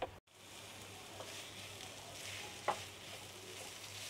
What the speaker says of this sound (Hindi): ये बहुत अच्छे से भुन रहा है